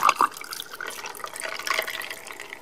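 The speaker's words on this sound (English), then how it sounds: "The next thing is to pour this lukewarm" Lukewarm liquid is poured over food in a kitchen, a soft, continuous trickle and splash close by, fairly quiet, with no talking.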